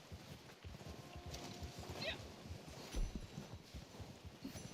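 Steady clip-clop of horse hooves trotting in Red Dead Online, a continuous rhythmic patter of close, mid-loud hoofbeats with a brief whinny partway through and faint game ambience behind.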